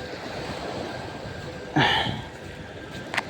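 Sea waves wash steadily onto the shore during a drizzly, windless day of shore fishing with sabiki rigs, with one louder surging splash midway and a small splash near the end.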